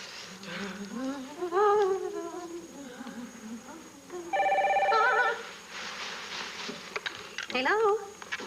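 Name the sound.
telephone ringing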